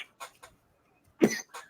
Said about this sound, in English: Everyone on Indie Volt Radio enjoying the cough.